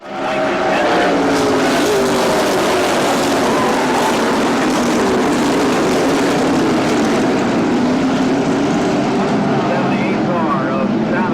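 Race cars roar around Columbus Motor Speedway during a 100-lap main event, with a steady loud engine drone throughout and a commentator talking over it.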